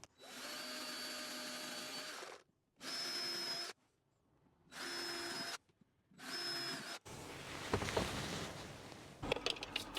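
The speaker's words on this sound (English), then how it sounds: "I'm just going to drill pilot holes through and then drill out the larger holes for these bolts." A power drill runs in four separate bursts of whirring with pauses between, drilling pilot holes for bolts, followed by rougher grinding and scraping noises.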